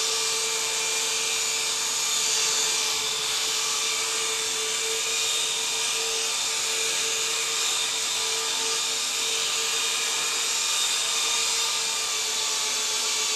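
Picooz Silverlit Tandem toy helicopter flying indoors: a steady, continuous high-pitched motor whine and rotor buzz, loud and close, holding constant for the whole stretch with no voice.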